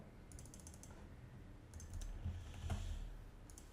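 A computer mouse gives a few faint, quick clicks in scattered clusters at a desk, with low background rumble and no speech.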